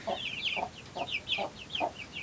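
A brooding hen with her chicks clucks in a steady rhythm of about five low, close clucks, while high, faint peeping chirps overlap between them.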